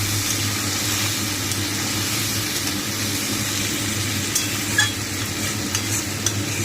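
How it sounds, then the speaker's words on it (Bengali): Spice paste sautéing in a pan with tomato and charmagaz for a vegetarian bora jhol, a steady close sizzle with the scrape and clack of a stirring spoon against the pan. "এই পেস্টটা এর মধ্যে ঢেলে দেবো এবার এটা একটুখানি ভালো করে কষিয়ে নেবো"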